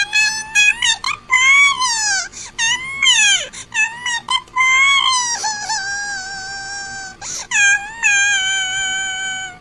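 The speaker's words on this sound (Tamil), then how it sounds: "ஏ பாப்பா அழுகாத" A young child cries loudly and continuously, with rising and falling wails, sobbing breaths and short gasps, close to the listener and without any other voices.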